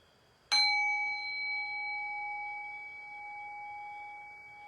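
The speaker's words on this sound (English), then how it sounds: "Okay, so I'll ring the bell." A single meditation bell is struck once, giving a clear ring with steady high overtones that sustain and slowly fade in a quiet room.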